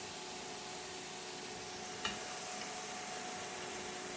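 Mushrooms frying in butter in a pan give a steady, even sizzle with faint crackle throughout. One brief sharper tick comes near the middle. There is no talk.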